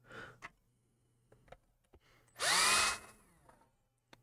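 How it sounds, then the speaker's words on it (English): A power drill bores into a guitar body in one loud burst of rising, whirring motor whine lasting about half a second, surrounded by quiet clicks and handling taps. "So that's why I'm not drilling this too deep."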